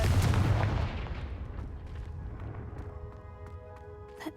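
A Confringo blasting curse from the Hogwarts Legacy video game goes off as a single loud, sharp burst up close, followed by a long rumbling decay that fades over several seconds.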